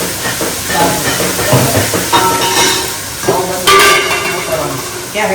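Corn curry sizzling in hot oil in a home kitchen, a steady hissing fry with bursts of crackle and steam throughout, fairly loud and close.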